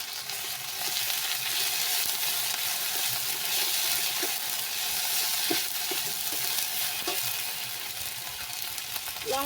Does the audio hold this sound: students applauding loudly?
no